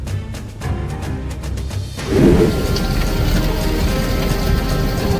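Hailstorm in northeastern Colorado: low rumbling thunder and scattered hits give way to a loud, steady roar of heavy rain and hail pounding surfaces, continuous and close with no voices.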